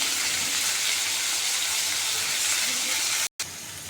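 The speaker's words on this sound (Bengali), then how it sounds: "খুব বেশি একটা ভাজা করব না অল্প করে হালকা করে একটু ভেজে নেব" Teka fish fries lightly in oil with a loud, steady, close sizzling hiss that cuts out for a moment near the end before resuming.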